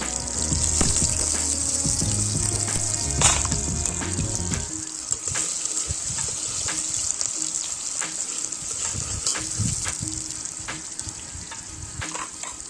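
Onions fry in hot oil in a pan while fish curry is being cooked, a loud, dense sizzle with stirring clatter that calms to a softer, steady crackle after a few seconds.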